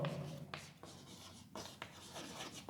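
Chalk or marker writing on a board during a physics lesson: a series of rubbing, scratching strokes in short bursts, close and moderately loud, with no speech over them.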